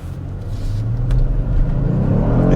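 A 2022 Kia Stinger GT2 launching under launch control, its engine roaring loudly and steadily building in a deep, continuous rumble as the car accelerates hard, with no talking.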